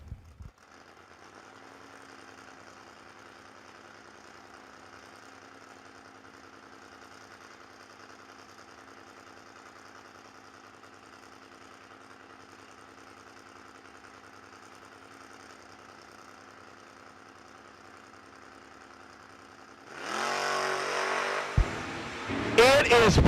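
At a New Year Nationals drag race, a Virginia-based Mustang and a Malibu station wagon wheelie car idle with a low, steady engine drone for about twenty seconds before erupting into a loud, harsh launch roar.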